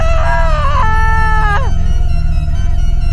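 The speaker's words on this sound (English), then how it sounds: "Natasha frantically rolls out of the oven screaming" A woman in a horror drama screams loudly and frantically after rolling out of a scorching oven, her voice a harsh rising wail that breaks off sharply, then continues in shorter strained cries over a constant low rumble.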